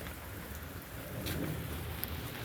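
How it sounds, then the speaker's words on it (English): Steady rain falls on an all-day rainy day, a soft, even patter and hiss with a few slightly louder swells, fairly faint and with no talking. "It rained yesterday and it's been raining all day today."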